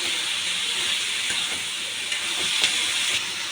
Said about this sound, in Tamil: இங்கே நான் கொஞ்சம் உப்பு போட்டு நல்லா வதக்கிக்கிறேன்.